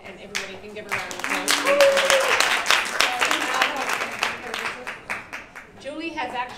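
Audience applause at a UN Women innovation event, a dense patter of clapping that swells in the middle and thins toward the end, with voices talking over it.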